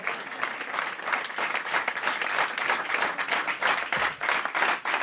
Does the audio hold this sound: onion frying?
no